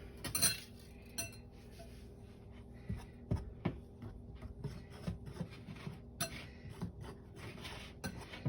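Flour, dry ingredients and a teaspoon of salt being whisked together in a bowl for lemon blueberry bread, with quiet scratchy scraping and occasional light clinks of the whisk against the bowl, close up and without talking.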